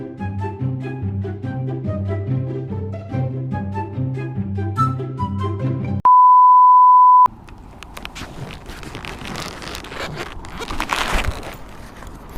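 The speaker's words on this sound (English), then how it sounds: "I think the GoPro just turned off" A GoPro action camera gives a steady electronic beep alone for about a second as it turns off, after a stretch of melodic music, followed by scraping, rustling handling noise.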